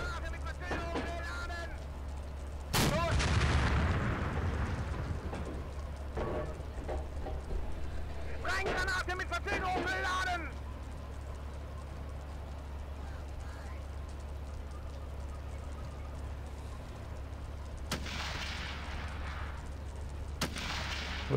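Gunfire on a WWII battlefield in the Steel Fury game, set in Operation Barbarossa at the Bug River: a loud burst of shots, then scattered bursts and single distant cracks over a steady low engine rumble.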